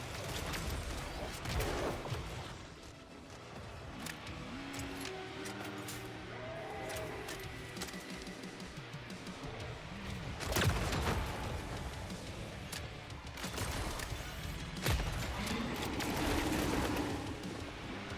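An activated turret in a video game fires rapid bursts of gunshots, dense and loud, with sharper cracks standing out over continuous busy game noise.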